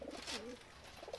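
Soft pigeon coos sound nearby, a low rolling call repeated a couple of times against faint background noise.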